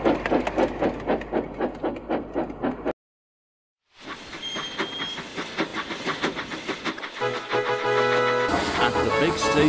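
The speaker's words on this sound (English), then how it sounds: "Finally, Thomas and the branch line engines were allowed through." Steam engines pass through a station, their rhythmic chuffing and hiss loud and close, broken by a brief silence, then resuming with clanking and steam bursts and a rising continuous hiss at the end.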